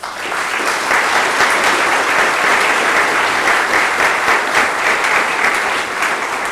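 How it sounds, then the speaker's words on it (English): An audience at an Air Force colonel's promotion ceremony gives a round of applause for Hope, a loud, dense and sustained wash of clapping that holds evenly throughout with no talking. "Let's give Hope a round of applause."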